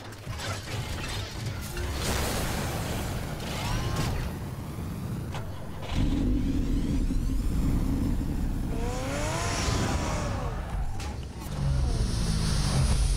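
A car driven by Batman in a video game hums with a steady engine drone, with mechanical clicks and whirring shifts rising and falling over about thirteen seconds, loud and continuous.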